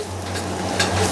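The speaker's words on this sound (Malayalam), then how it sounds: "കുറച്ച് മുളക് പൊടി, ഗരം മസാല പൗഡർ, കുരുമുളക് പൊടി നല്ലോണം നമുക്കൊന്ന് മിക്സ് ചെയ്യാം." Chili powder, garam masala and pepper stirred into beef liver for a Kerala-style liver roast, a steady close scraping and mixing with a faint sizzle and a low hum underneath, no voices.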